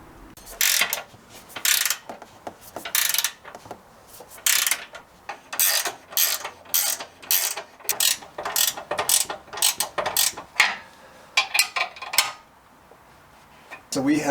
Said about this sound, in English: We got all the U-bolts torqued down.